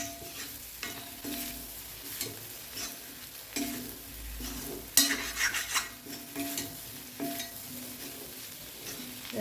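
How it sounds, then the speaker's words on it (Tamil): Boiled potatoes fry in masala in a pan over low heat, with a soft steady sizzle under repeated scraping stirs of a spoon against the pan and one sharper metallic clink midway. "இது நல்லா ஃப்ரை ஆகட்டும்."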